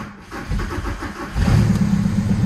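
A car engine cranks briefly, then catches and settles into a loud, steady idle, close by and without talk.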